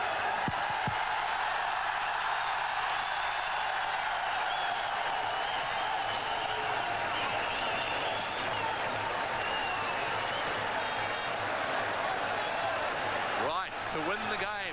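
A packed cricket crowd at Sharjah stadium during a 1998 match against Australia roars continuously and loudly, a dense sustained wall of cheering with a commentator talking over it.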